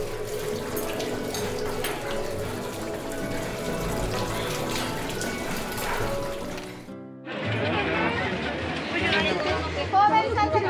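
Water runs from a tap for a brief rinse in a Mexican street-food setting, a steady hiss of several seconds following a stretch of lively crowd chatter and voices.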